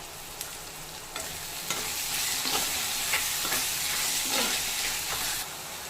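Chopped tomatoes with a little salt sauté in a pan for a Tamil mutton drumstick curry, giving a steady sizzling hiss with occasional stirring scrapes and soft pops throughout.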